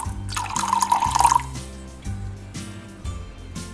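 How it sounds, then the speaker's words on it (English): Rum and wine are poured onto a Jamaican fruit cake, a short close splashing trickle of liquid followed by a few soft clinks and quiet thuds. "To finish off my cake, I'm going to go in with a couple tablespoons of rum"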